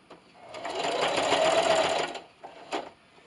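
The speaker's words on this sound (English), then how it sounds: "I'm just going to sew up here till I get a 1/4 inch away" A sewing machine stitching a scrappy pot holder: a rapid motor whir with steady needle chatter for about two seconds, then a brief stop and a short final burst, close up.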